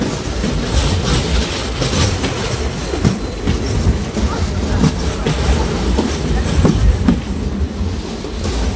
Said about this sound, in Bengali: আমাদের ট্রেন ঢুকছে বিজনি স্টেশনে।